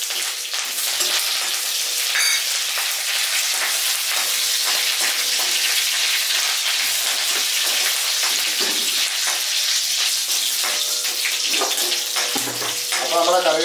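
Mustard seeds and curry leaves spluttering and crackling in hot oil in a pan while cooking a potato dish, a dense, loud, continuous sizzle with sharp pops throughout.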